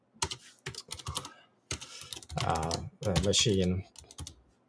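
Keys tapped on a computer keyboard at a PowerShell prompt on a Windows 11 ARM device, a quick burst of close clicks in the opening seconds, followed by someone talking.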